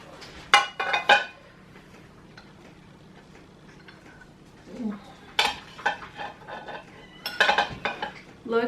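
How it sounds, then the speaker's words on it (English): A metal slotted spoon clinks and scrapes against a dish while lifting naturally dyed red farm and quail eggs onto a dinner plate. Scattered close clinks come in bursts separated by quiet pauses. "I have a slotted spoon and just a dinner plate."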